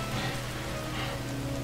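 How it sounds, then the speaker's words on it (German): Steady rain pours in the video game No Man's Sky, a dense continuous hiss with low rumble underneath, even and close throughout with no talking. "Bloß nicht zu viel durch den Regen latschen."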